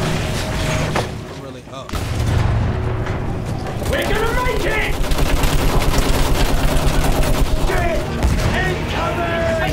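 Gunfire and booming artillery in the World War I shooter Battlefield 1, with a dense, continuous barrage of shots and blasts while soldiers shout over the battle.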